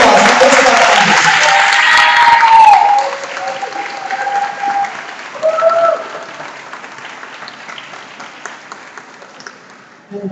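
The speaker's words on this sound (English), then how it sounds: "please give a round of applause for their staff" A crowd at a graduation ceremony claps loudly for school staff, the ovation dense for about three seconds and then thinning into fading scattered claps with some murmuring and distant voices.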